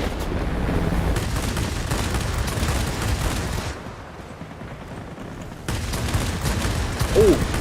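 Sustained rattle of aircraft machine-gun fire in World of Warplanes during a Focke-Wulf 190 dogfight, a loud continuous burst that eases briefly mid-way and then resumes, dense and close.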